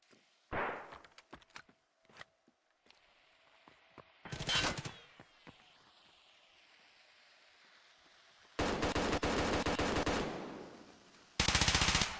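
Gunfire during an esports tournament match in a shooter game: scattered faint shots and a short burst early on, then long sustained automatic fire and a final loud burst, near and sharp.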